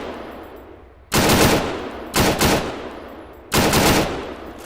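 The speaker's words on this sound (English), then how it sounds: "since it's a sniper variant, it has not got automatic, so I have to fire this one semi-auto" An AUG sniper variant rifle firing semi-automatically in Arma 3: three separate loud, close shots about a second apart, each with a short echoing tail.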